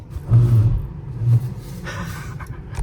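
A quiet BMW running on electric power only hums at idle, a low soft rumble that swells twice before settling, with no engine roar.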